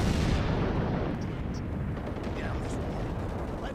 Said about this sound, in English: And then we cut to one of the anti-aircraft guns.